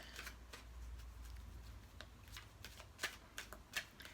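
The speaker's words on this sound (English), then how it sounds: "pull a couple of cards from the Romance Angels deck" Cards from a Romance Angels oracle deck being shuffled and pulled, heard as soft, close riffling and sliding with a few sharper snaps near the end, quiet against a low hum.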